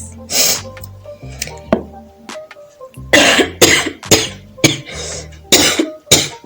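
Repeated harsh coughing, a burst early on and then a string of sharp coughs in quick succession, close and loud with short pauses between.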